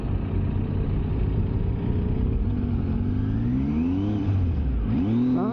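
A motorcycle engine on a western US interstate ride labors in the wrong gear at low speed, a loud steady drone whose pitch rises and falls, then climbs sharply near the end as it revs.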